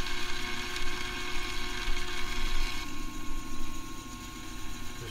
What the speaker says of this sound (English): Part off our screw now.